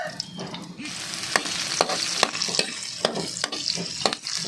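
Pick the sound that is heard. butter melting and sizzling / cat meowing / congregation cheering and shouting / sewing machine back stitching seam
butter melting and sizzling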